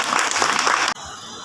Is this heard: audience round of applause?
yes